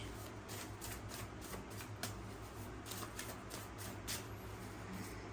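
Tarot cards shuffling in quick, papery riffles and flicks, close and continuous at a soft level with a steady low background hum, no talking.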